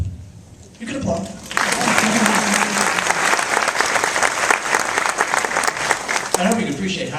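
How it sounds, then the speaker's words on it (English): A crowd bursts into sustained, loud applause that fills the space for several seconds, with a voice heard briefly before and after. "You can applaud."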